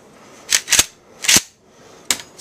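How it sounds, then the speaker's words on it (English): Dry firing a shotgun with a modified heat shield: four sharp mechanical clicks and clacks of the action, close and crisp, separated by short pauses. "Let me just dry fire real quick."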